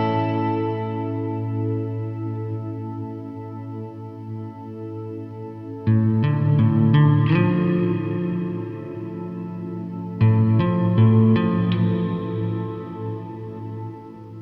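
A Meris Mercury X reverb pedal with freeze engaged holds a sustained, shimmering layer of frozen chords, while new guitar strums break in near 6 and 10 seconds and swell into the washy tail, with no talking.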